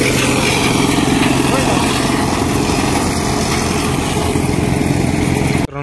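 A tractor engine runs loudly and steadily nearby during silage making, a constant droning rumble with no change in pace, ending with a sudden cut-off.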